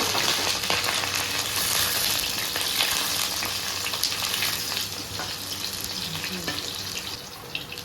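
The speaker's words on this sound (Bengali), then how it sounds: "ভালো করে একটু লাল লাল করে ভেজে নিচ্ছি।" Potatoes for Kashmiri aloo dum fry in hot oil with a steady, dense, close sizzle that softens slightly toward the end.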